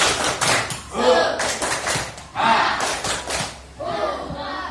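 A class of students performs a rhythmic clapping chant in a school lesson: bursts of group clapping in short patterned sets, mixed with shouted voices, loud and close, with brief pauses between phrases.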